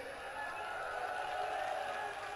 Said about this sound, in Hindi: अरे ताली बजा देते हो